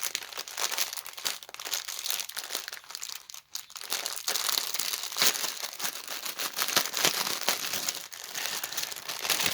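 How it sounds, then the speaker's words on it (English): A crinkly plastic bag from a cross stitch kit is handled up close, giving a steady run of sharp crackles and rustles with irregular bursts and no pauses. "Get that out of that crinkly bag."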